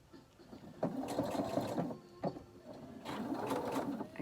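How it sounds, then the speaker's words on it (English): A sewing machine stitches down the pleats of a fabric face mask, a steady close mechanical whir that runs in two stretches with a brief slowdown between them. "You're going to take it over to the sewing machine and sew those pleats down."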